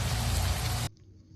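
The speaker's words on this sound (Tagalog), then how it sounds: "Sakto, umuulan." Steady rain hisses loudly for most of the clip, then cuts off abruptly, leaving faint quiet background.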